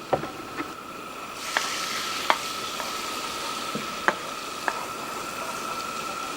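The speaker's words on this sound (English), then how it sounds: "So first we start with the butter, put it in the pan. So let the butter melt." Butter melting in a pan for apricot dumplings gives a steady, even sizzle with a few faint clicks and taps of utensils, close and continuous, no talk.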